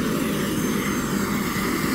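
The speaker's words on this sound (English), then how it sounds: "Helicopter one, helicopter two, in a baseball field." Two helicopters landing in a baseball field give off a loud, steady engine and rotor roar that holds evenly for the whole stretch, with no talking.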